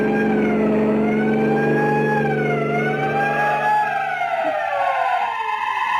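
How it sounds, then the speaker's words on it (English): A wailing emergency vehicle siren used as a sound effect in a classic radio drama rises and falls steadily and loudly for the whole stretch, with a rumbling low engine tone beneath it and no talk. "Sound your siren."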